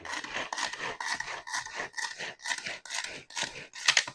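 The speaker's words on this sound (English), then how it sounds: "you simply pull the string like a chainsaw" Quick rhythmic rasping pulls repeat about twice a second, a steady sawing-like scrape from a pull-string chopper, close and moderately quiet.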